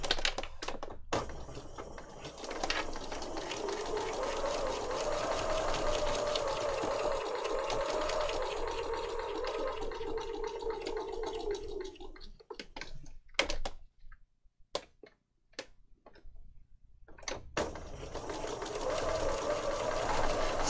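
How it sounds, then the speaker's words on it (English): A sewing machine stitches around three sides of an altered Little Golden Book for a junk journal, running in a steady continuous whir for several seconds before stopping, followed by scattered clicks and quiet handling sounds as it starts again. "I'm just going to stitch around these three sides here"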